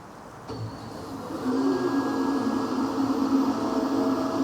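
A Hyundai Nexo hydrogen fuel cell car powers down with a steady whirring, humming drone that swells after a faint start and holds at moderate loudness, with a faint tonal whine on top and no talking.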